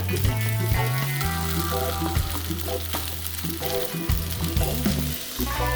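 Instant ramen fried rice with egg frying on high heat, a loud, continuous sizzle under repeated spatula stirs and scrapes, heard up close with no talking.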